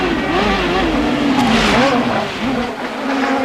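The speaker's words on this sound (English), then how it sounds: "And you can hear it with the revs on the downshift, Paul." A CART race car engine at Road America revs sharply through several downshifts, the pitch jumping up and down, loud and close, with a brief tire squeal.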